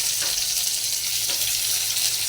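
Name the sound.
chopped onion frying in hot oil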